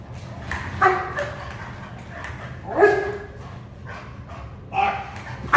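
A prey-driven dog barks on command during ball training, giving three separate sharp barks spaced about two seconds apart, close and clear over a quiet background.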